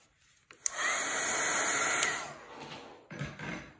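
A handheld hair dryer blows on wet acrylic paint, starting with a click and running as a steady, loud, close whoosh for about two seconds before cutting off, followed by light handling noise.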